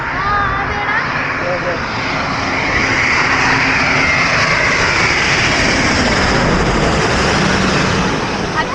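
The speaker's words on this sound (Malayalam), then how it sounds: "ഇപ്പോൾ അവിടെ ഒരു കുവൈറ്റിൻ്റെ ഫ്ലൈറ്റ് എനിക്ക് പൊങ്ങാൻ വേണ്ടിയിട്ട് അവിടെ തയ്യാറെടുക്കുന്നുണ്ട്" A steady, loud jet engine roar of a Kuwait airliner taking off builds and holds throughout, a broad rushing drone with faint voices mixed underneath.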